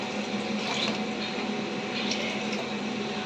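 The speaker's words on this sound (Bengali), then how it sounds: "জলটা একটু অল্প করেই দিলাম।" Water poured into a pan of fish curry gravy makes a steady, continuous rushing hiss up close, even in level throughout, with no talking.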